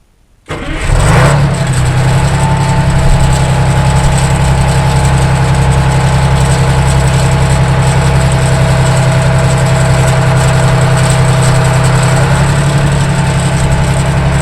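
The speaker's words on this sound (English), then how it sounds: "Listen to my diesel detonate." A diesel engine starts up and then runs steadily at a loud, close idle with a constant low rumble and an even mechanical clatter, and no voices are heard over it.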